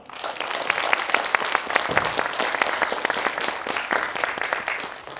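Steady crowd applause at the opening ceremony of the 2021 Yakcheon Nam Gu-man literary festival in Yongin, with dense, even hand clapping from a sizable audience lasting throughout.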